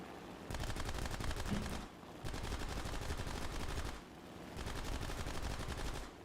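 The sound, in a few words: aircraft cannon fire in a video game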